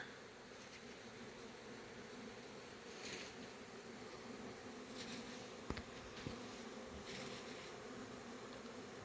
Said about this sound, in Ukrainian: бачимо, який у нас літ, як бджола літає